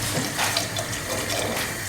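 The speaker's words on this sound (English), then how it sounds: "Then we're going to add the same amount of stock" Fish stock for a Mediterranean fish soup pours steadily into a pot, a continuous close liquid splashing and gurgling with no talk.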